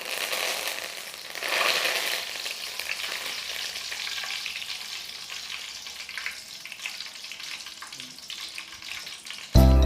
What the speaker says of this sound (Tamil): இதோட கொஞ்சம் கருவேப்பிலையும் நம்ம வறுத்து இதோட சேர்த்துக்கலாம்